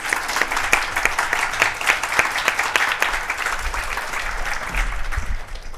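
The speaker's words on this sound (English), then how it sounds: "One more round of applause for the Alumni Award recipients." An audience applauds alumni award recipients at a 2021 campus celebration ceremony: a dense, steady round of clapping from a crowd that carries on without a break for several seconds.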